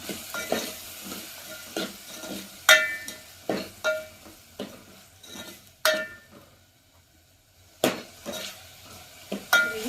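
Eggplant frying in a pan with salt added, a spatula scraping and stirring in irregular clinking strokes over a steady low sizzle, with a quiet pause partway through before the stirring resumes.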